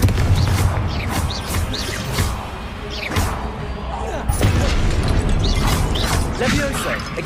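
Confringo blasting spell effects in the Hogwarts Legacy video game: repeated crashing booms and thuds over about seven seconds, loud and dense, with the clatter of combat.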